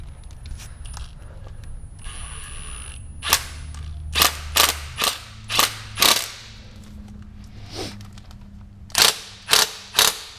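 A ratchet with a deep 12 mm socket loosening a ground bolt during an engine swap on a 2013–2019 BRZ, FR-S or 86, with sharp metallic clicking bursts in separate close groups over a faint hum, no talking.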